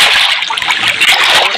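Water splashing in the Minecraft video game running with shaders, a steady, bright, sustained splash and slosh that fills the clip at close range with no talking.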